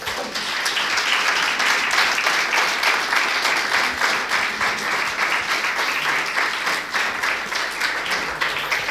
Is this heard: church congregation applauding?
yes